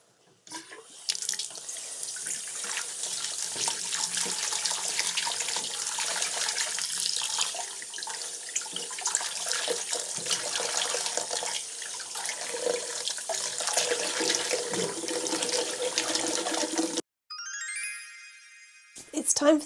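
Tap water runs steadily into a sink to rinse naturally dyed cotton, a continuous splashing hiss that stops abruptly near the end, followed by a brief tinkling jingle.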